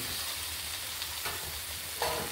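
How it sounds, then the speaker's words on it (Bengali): Pre-fried potatoes tossed with spices in a hot pan for restaurant-style ghughni, giving a steady close sizzle with a few soft stirring scrapes and no talking. "মশলার সঙ্গে আলুগুলোকেও একটু এইভাবে কষিয়ে নেব"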